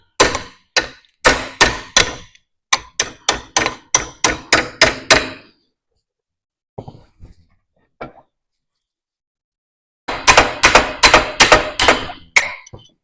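Sharp metallic hammer blows on a metal punch in quick bursts, a steady run of strikes, a pause with faint knocks, then another rapid flurry of loud, close hits.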